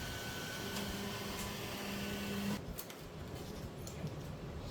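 Centauri Carbon 3D printer running, a steady close mechanical whir with faint tonal motor whines that cuts off abruptly partway through, leaving quieter room hum with small clicks.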